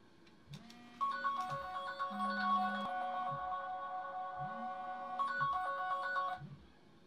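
Ringtone from an incoming phone call, a melodic electronic tune of repeating notes that plays in two phrases, moderately loud and alone with no talking.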